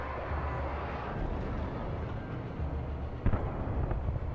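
A helicopter crashes in the video game Alan Wake Remastered: a steady, loud roaring rumble of engine and rotor noise runs throughout, broken near the end by a sharp impact burst.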